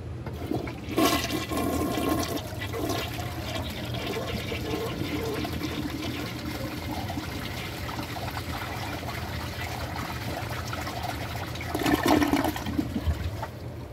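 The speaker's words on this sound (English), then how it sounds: "so let's see how it flushes" A 1978 coppertone Kohler Wellworth toilet flushes nearby, with a loud rush of water at the start, a long steady gurgling drain and refill, and a second surge of water near the end.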